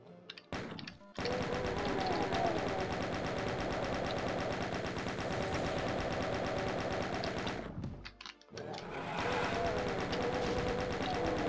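Rapid, sustained automatic gunfire from the Doom video game rattles on in a long burst, breaks off briefly, then resumes just as dense and loud.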